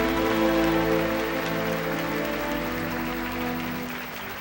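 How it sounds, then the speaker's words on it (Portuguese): Church congregation applauding during a Pentecostal service with Pastor Marco Feliciano, a dense, hissing rain-like wash of clapping under a sustained low organ or keyboard chord, steady and slowly fading. "Uma linda salva de palmas a Jesus, por favor"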